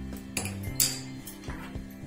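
A metal tempering pot is set down on a gas stove, giving a few short clanks and metallic clinks close by, alone without talk.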